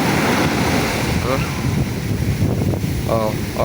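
Big ocean waves crash and surge onto the shore at Matnog, a constant loud roar of surf with heavy wind buffeting the microphone and a voice briefly audible underneath.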